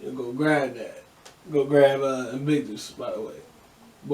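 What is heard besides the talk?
No everyday noise stands out behind the speech.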